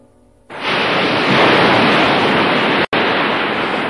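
Cartoon sea waves rising higher, a sudden loud broadband roar of surging water that kicks in after a half-second and holds steady, with one brief dropout near the end.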